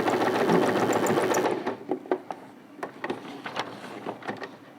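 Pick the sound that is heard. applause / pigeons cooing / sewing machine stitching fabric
sewing machine stitching fabric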